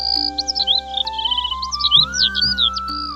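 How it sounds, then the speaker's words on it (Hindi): Birds chirping near a forest, bright rapid tweets and short trills repeating in quick bursts over a steady tonal hum and faint background drone, fairly close and clear. "पक्षियों की आवाजें सुनाई देने लगीं"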